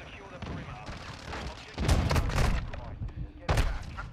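Gunfire in a multiplayer shooter video game, loud booming shots in two bursts over a continuous rumble of game background noise, close and dominant.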